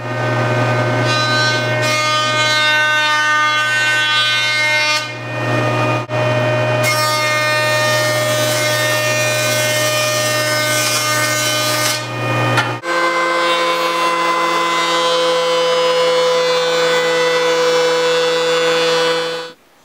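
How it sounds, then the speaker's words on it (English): A woodworking jointer and then a thickness planer mill a piece of wood, giving a loud, continuous machine whine with a steady hum, breaking briefly and shifting pitch as the board passes through, with no talk. "I'm going to run this through the jointer, I'm going to run it through the planer"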